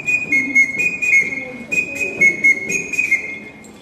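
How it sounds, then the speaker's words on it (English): A small Tanzanian whistle carved from a little stick plays a steady, shrill tone in short repeated bursts, loud and close with a pulsing rhythm and no talk. "This whistle comes from Tanzania."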